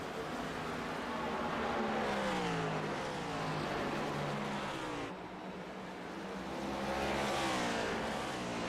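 Stock cars racing past the start-finish line at Gateway in the iRacing simulator, a steady roar of engines sweeping by in overlapping waves, loud and continuous.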